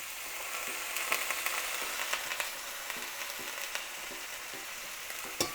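Lamb sizzles and crackles steadily in a hot cast iron pan on a stove, close up, with occasional louder pops and scraping stirs breaking the constant hiss.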